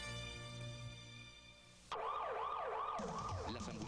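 An ambulance siren in a Venezuelan radio advertisement for ambulances and fire vehicles made by Ingeniería Médica wails in loud, repeating up-and-down sweeps, starting abruptly after a stretch of music.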